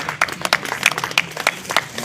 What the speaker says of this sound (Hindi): ताली बजाकर सब स्वागत करें।